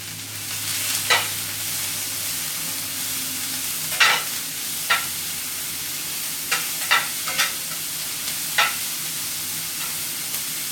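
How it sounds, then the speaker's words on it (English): Sweet peppers frying in a hot skillet, a soft steady sizzle underneath occasional sharp clicks and scrapes of a utensil stirring the pan. "it makes that sizzle sound"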